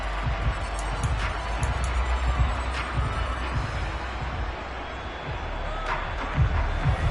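A stadium crowd roars at a Lions vs Commanders football game ahead of a third down. A steady, dense wall of cheering stays fairly level throughout, under a commentator's voice.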